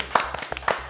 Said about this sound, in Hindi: जोरदार तालियां हो जाए मीरा के लिए